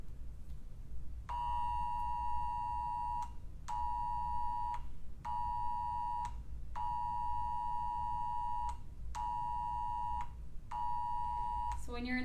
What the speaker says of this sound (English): it's called the tritone sound, and it was specifically created to be an attention getter.